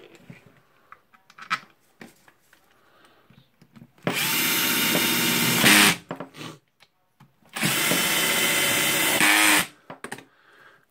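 A Bosch power drill driving screws while a Makita rotary hammer drill is being reassembled: two loud sustained whirring bursts of a couple of seconds each, separated by quieter handling clicks and small noises.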